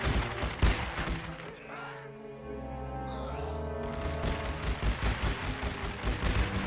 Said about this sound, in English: They are firing at the enemy.